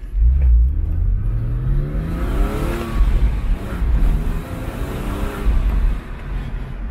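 A Porsche 997 Cabrio accelerating hard through first and second gear, the engine note climbing in pitch, dropping at the upshift, then rising again, loud and close with no talk.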